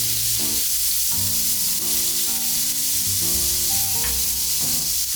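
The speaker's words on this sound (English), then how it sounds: "tablespoon of butter, mix it around, garlic in" Garlic and butter sizzle steadily in a hot pan as a cauliflower purée is started, a dense continuous frying hiss with no talk over it.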